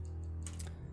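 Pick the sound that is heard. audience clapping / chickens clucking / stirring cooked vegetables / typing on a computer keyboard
typing on a computer keyboard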